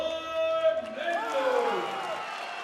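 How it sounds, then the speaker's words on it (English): A Bulgarian crowd at a SENSHI 25 fight event roars with cheers and applause after a fighter demolishes his opponent, a dense, sustained wash of voices and clapping that carries steadily through. "the appreciation from the Bulgarian crowd"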